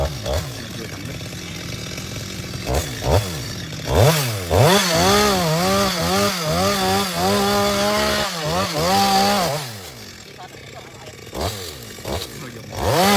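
A chainsaw roars nearby while cutting into a large, tall kapok tree, its engine pitch rising and dipping repeatedly as it bites through wood, with brief idle pauses.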